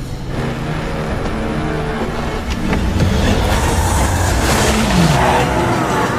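In a Jackie Chan action film, a car revs hard and surges forward with squealing tires and loud engine roar, building into a ramming impact amid a dense, continuous soundtrack.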